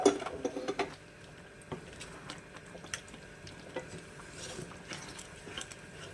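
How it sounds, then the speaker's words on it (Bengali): Moong dal being stirred into a hot tempering in a pan, with scattered scraping and tapping of the spoon over a soft, faint sizzle, sharper clinks at the start. "এই ডালের পাত্রটা পাশে নিয়ে এসে দিয়ে দেবো এই ফোড়নটার মধ্যে, দিয়ে আবার নাড়াচাড়া করে"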